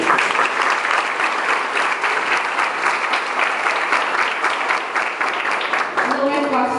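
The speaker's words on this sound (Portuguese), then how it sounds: "queria aqui pedir uma salva de palmas para todos vocês" Loud, steady applause from a school audience in Caxias, Brazil, continuous dense clapping throughout, with music beginning to come in at the end.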